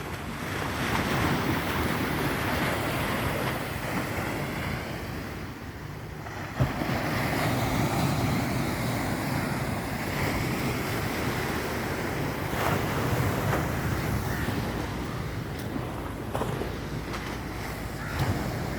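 Calm sea washing onto a shore where the water has risen high since the tsunami, a soft continuous surf wash with wind buffeting the microphone and no voices.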